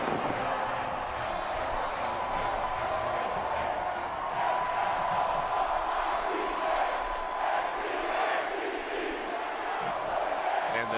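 A sellout stadium crowd roars steadily at a Florida State versus Oklahoma college football game in Tallahassee, a broad, loud wash of massed voices that swells slightly in the middle and never drops away.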